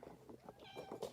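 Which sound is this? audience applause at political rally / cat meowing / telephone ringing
cat meowing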